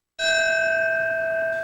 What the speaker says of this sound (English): bells rang out in Lower Manhattan, symbolizing the official end of recovery efforts at Ground Zero